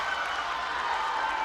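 Steady roar of a volleyball crowd cheering and applauding for Boston College during a 2025 ACC match against Stanford, dense and continuous from start to finish with no clear breaks.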